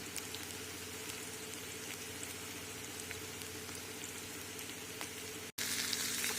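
Chopped drumstick leaves and onion sautéing in a pan, a constant crackling sizzle at moderate level that stops in a brief break and then resumes slightly louder.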